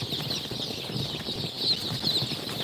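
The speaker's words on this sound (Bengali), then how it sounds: "এগুলো হচ্ছে মুরগির বাচ্চা মুরগির বাচ্চা রাখা আছে বোর্ডিংয়ে" Steady soft clucking and peeping from many young desi and Sonali chicks close by in a brooder, a continuous busy chatter with a bright high-pitched layer throughout.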